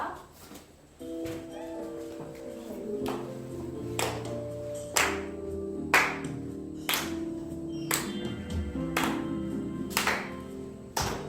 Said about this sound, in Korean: 함께 이번 율동 없이 박수 치면서 우리 함께 찬양할게요.